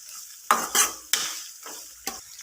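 Curry leaves drop into hot oil with chana dal and urad dal for a poha tempering, giving several sharp, loud bursts of crackling sizzle that quickly fade in quiet gaps.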